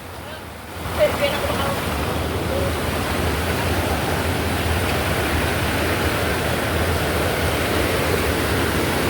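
Fast floodwater after heavy rain roars in a steady, loud broadband rush that fills the scene without letup, beginning after a brief quieter moment.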